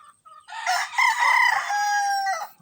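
A backyard gamefowl stag of sweater breed crows once, a loud, close, drawn-out cock-a-doodle-doo lasting about two seconds.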